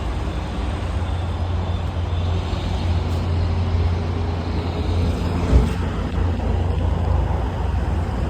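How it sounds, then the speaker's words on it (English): Trucks idling at a truck stop, a steady low diesel rumble and traffic noise from fairly close by, with a brief thump partway through. "I do love truck stops."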